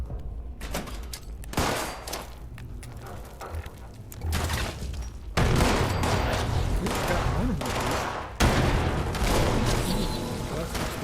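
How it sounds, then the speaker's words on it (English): Video game combat with loud bursts of gunfire and explosions, repeated blasts and rattling shots building through the scene, with heavier booms near the middle and toward the end. "Explosions."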